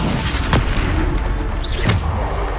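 Bombarda spell explosions from Hogwarts Legacy, two deep booming blasts about a second and a half apart, loud and close with rumbling tails, no voices.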